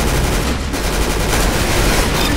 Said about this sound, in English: Bro, I suck with machine guns.